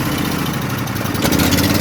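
A Craftsman engine with one cylinder not firing runs steadily nearby, a loud rough mid-pitched drone with an uneven, lumpy beat.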